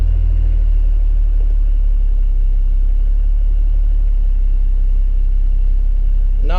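First-generation Cummins diesel in an old pickup truck, started for the first time in years, settling into a steady, heavy low rumble that runs continuously throughout, with a brief higher sweep near the end.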